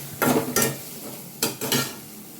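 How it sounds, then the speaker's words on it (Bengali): Carrot pieces frying in a pan for a breakfast dish, with a spatula stirring in four quick scraping strokes over a soft, steady sizzle, close and fairly loud. "এক মিনিটের মতন গাজরটা আগে একটু ভেজে নেব"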